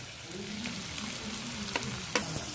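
Garlic and chopped onion fry in hot oil in a wok for a chokha side dish, a steady close sizzle with occasional sharp ticks and spatters of a spoon against the pan.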